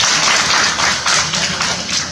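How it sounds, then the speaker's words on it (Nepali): A seminar audience in Nepal claps loudly together, a steady dense wash of applause with a few surging swells, filling the whole moment close and bright without talk. "तालीले हामी सम्मान गर्छौँ।"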